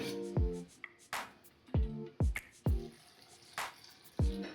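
A little water goes into a mixer grinder jar for a pea paste, giving a few separate drips and small splashes at uneven intervals, close and fairly soft, with no talking.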